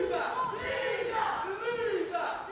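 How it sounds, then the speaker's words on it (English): A wrestling match crowd yells and jeers continuously, with rising and falling cheering voices across the arena throughout. "you can hear the sounds of the crowd"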